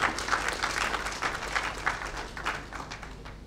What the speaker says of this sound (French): Je vous demande d'applaudir le DG Mbati.